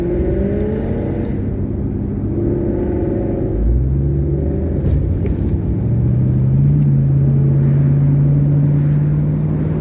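A Ford Mustang rumbles at cruising speed, a loud, steady low engine drone with engine pitch rising and falling as it accelerates and shifts, no talk.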